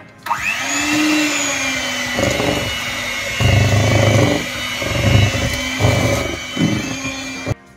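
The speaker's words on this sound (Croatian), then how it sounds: "Malkice mikserom samo." An electric hand mixer whirs through cake batter for a plum, hazelnut and chocolate cake, running steadily and loud up close, its pitch rising and dipping in bursts as the beaters work the bowl.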